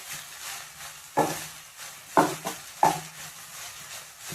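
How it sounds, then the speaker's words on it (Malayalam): A spoon stirs soybeans frying in a pan, with three sharp scraping knocks spaced about a second apart over a steady low sizzle. "ഇത് നന്നായി കുറേ നേരം ഇളക്കി കൊടുക്കുക."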